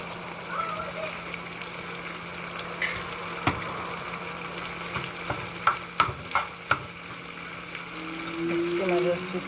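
Pasta simmering in a pot for a Jamaican country-style dish, with a steady bubbling hiss and a few louder scrapes and knocks of a spoon stirring, moderately close and mostly without talk.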